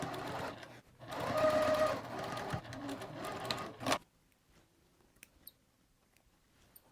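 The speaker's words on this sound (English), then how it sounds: "sew all the way down and back stitch on this end" A sewing machine runs in a steady mechanical whir for about three seconds, stitching a zippered fabric pouch with a backstitch at the end, then stops, leaving near-silence with faint handling clicks.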